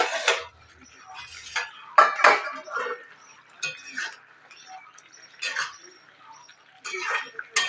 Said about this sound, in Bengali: এবার আমি ঢাকনাটা খুলে দেখব।